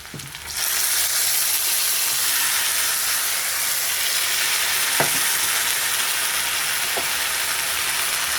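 Spices fry in hot oil in a pan for a fish curry, a loud steady sizzle that starts abruptly and runs throughout, with a couple of brief clinks from stirring.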